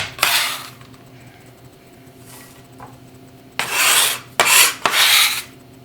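Chocolate being stirred in a bowl to melt it, several loud scraping rasps of a utensil against the bowl in short bursts, close up, with quiet pauses between and no talk.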